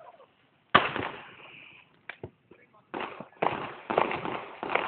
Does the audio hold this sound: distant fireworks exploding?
yes